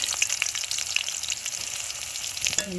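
Onions dropped into plenty of hot oil in a pan for biryani, crackling and sizzling steadily up close with no talk.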